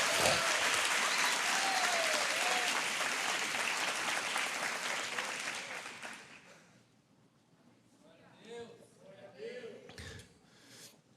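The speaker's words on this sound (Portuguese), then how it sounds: "aplauda bem forte o nome de Jesus" A church congregation claps loudly and steadily for about six seconds, then the applause fades out, leaving scattered voices and light crowd noise.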